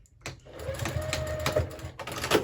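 A sewing machine hums and whirs close by while back stitching a seam on a quilted tote bag made from scrap fabric strips, running steadily with a few light clicks.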